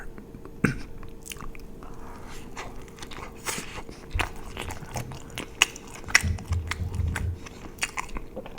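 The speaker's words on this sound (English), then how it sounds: "Last little bite here." Chewing on an In-N-Out burger, heard close and quiet: soft wet crunches and bites spaced irregularly over a faint steady hum, with a few sharper clicks.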